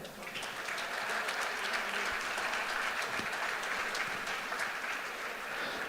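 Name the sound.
audience applause for the Titusville seniors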